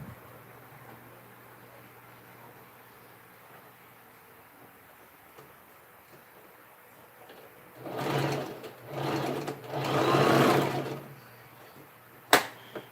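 A sewing machine making a bag runs out of thread, with a low electrical hum and faint handling noises at first, then three loud bursts of motor whir near the end and a sharp click at the finish.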